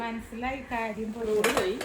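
Pots and dishes clatter as they are handled in a new home, with a sharp metallic clink near the end and a voice sounding over the handling throughout.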